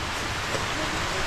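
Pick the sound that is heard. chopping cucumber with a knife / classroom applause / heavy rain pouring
heavy rain pouring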